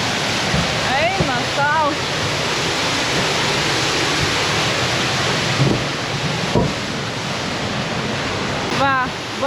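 A waterfall on a Madeira levada trail gives a loud, steady rushing roar of falling water that fills the whole stretch. A person briefly speaks over it.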